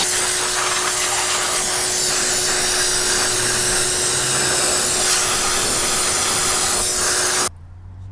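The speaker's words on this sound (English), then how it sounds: "whilst we're here with the pressure washer, we'll go ahead and just spray off all this WD-40 that we've used" A pressure washer sprays down a Kawasaki ZX-9R motorcycle to rinse off WD-40, a loud continuous hiss with a steady motor whine, close and unbroken until it cuts off near the end.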